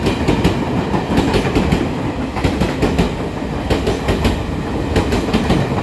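Disney-painted Taiwanese tourist train hauled by an E406 electric locomotive passes close by, loud steady rumble with repeated rhythmic clickety-clack of wheels over rail joints throughout.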